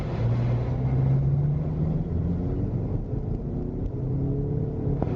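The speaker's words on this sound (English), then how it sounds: "Let's go for a quick drive." A 2003 Toyota Camry with fresh tires cruises along, its engine drone steady and close, rising slightly in pitch as it pulls, with constant road rumble and no voices.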